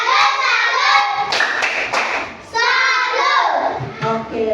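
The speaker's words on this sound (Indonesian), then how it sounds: "Oke, tepuk salut untuk kita semua." A group at a Catholic religion teacher training session performs the tepuk salut clapping chant, with voices chanting loudly together and crisp claps landing in rhythm, a short pause midway before the chant resumes.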